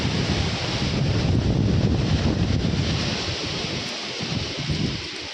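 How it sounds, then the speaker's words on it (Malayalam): Strong wind sweeps across a hilltop in a continuous roaring rush, buffeting the microphone loudly and surging and easing slightly over several seconds, with no voices. "ഇമ്മാരി ഒരു കാറ്റ് തന്നെ അനുഭവിക്കുന്നത്"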